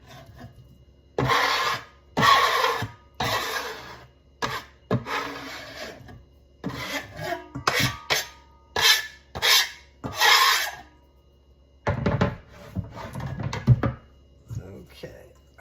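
A knife or spatula scrapes diced Roma tomatoes into a bowl for salsa, giving a series of short, close rasping strokes against a cutting board with brief pauses between them, and no talking over them.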